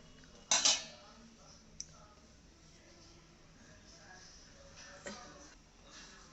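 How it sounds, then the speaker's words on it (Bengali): A metal lid set onto a cooking pot of potato curry, a sharp clatter near the start followed by a couple of lighter clinks, over a quiet kitchen background. "ঢাকনা দিয়ে ঢেকে দিলাম।"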